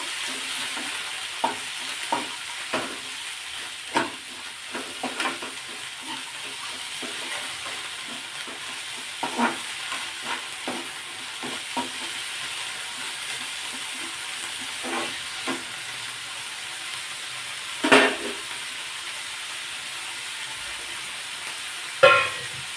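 A pan of chopped radish leaf vegetable is stirred with repeated scraping strokes over a quiet sizzle, and a louder clatter comes toward the end.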